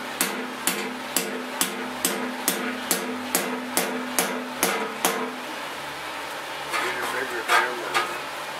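A hammer drives a chisel into sheet-metal spot welds with a steady rhythm of sharp, ringing strikes, about a dozen in a row, then a few looser blows.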